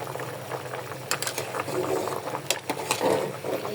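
Hilsa fish goes into a simmering curry of pointed gourd and potato, with close, uneven bubbling and a few sharp clicks and splashes as the pieces drop in.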